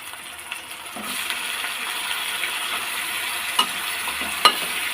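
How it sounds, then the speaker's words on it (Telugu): Chicken fries with browned onions in hot oil, giving a steady close sizzle with soft stirring scrapes and a couple of sharp metallic clinks. "బ్రౌన్ కలర్ వచ్చేంత వరకు వేపుకున్న తర్వాత చికెన్ అనేది యాడ్ చేసుకోవాలి."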